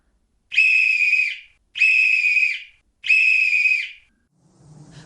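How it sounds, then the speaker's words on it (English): A silver whistle is blown three times, each a long loud shrill blast with even pauses between, followed by a faint low rustle. "blew 3 times upon her silver whistle"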